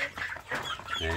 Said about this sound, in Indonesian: itu ada suara anak ayam kampung yang kecil itu belum saya beri makan di dalam kandang ini